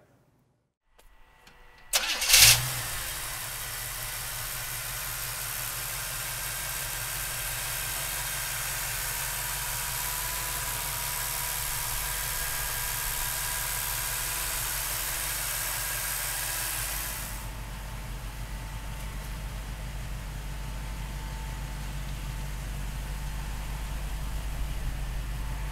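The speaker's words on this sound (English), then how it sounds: "So come on up and we'll fire it up." A 1940 Ford rat rod pickup truck engine cranks and catches with a sharp burst after a brief silence, then settles into a steady, close, continuous idle rumble that runs on unbroken.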